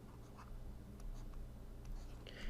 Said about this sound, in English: I'm going to write down 3, 1, and 6.